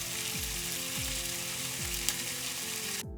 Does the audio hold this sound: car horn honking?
no